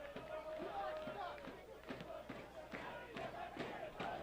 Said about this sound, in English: You're starting to hear the cheers now as the crowd tries to rally the team here in the last 10 minutes